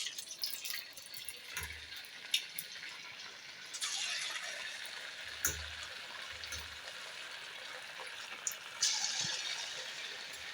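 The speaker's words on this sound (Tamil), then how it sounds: "ஸோ நம்ம கொஞ்சம் தேவையான பீஸ்லாம் போட்டு பொரிச்சு எடுத்துக்கலாம்." Chicken 65 pieces deep-frying in hot oil, a steady, quiet hiss with scattered crackles and a few soft low thumps.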